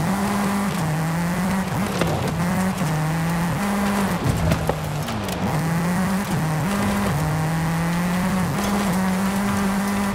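Race cars roar through a Forza Horizon 5 lucha libre event in Mexico, engines droning steadily near and loud with rising and falling gear shifts across the whole stretch, no talk.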